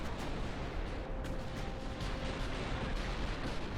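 Naval guns boom from ships in the Ultimate Admiral Dreadnoughts battle game as dense, continuous rumbling broadband fire with scattered sharper blasts, loud and without voices.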